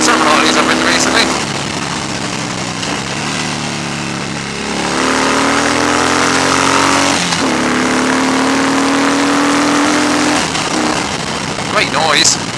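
A 2015 Harley Davidson Fat Bob rumbles along a road with a deep, throaty V-twin drone, rising through revs and shifting gears, loud and close throughout, with a rider talking over it.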